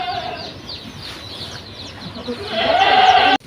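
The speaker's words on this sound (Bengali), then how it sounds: "এই যে ছাগল ছাগলকে আমের পাতা খেতে দিয়েছে" A goat lets out a drawn-out bleat near the end, following quieter farmyard sounds and soft clucking in the background.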